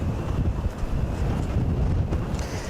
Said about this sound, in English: you can hear the wind blowing there